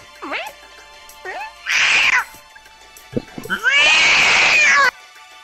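People screech and yowl in imitation of a screaming cat late at night, with short rising meows followed by long, loud caterwauling bursts and brief pauses between them.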